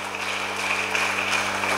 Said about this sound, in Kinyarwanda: Dukomere Yesu amashyi menshi,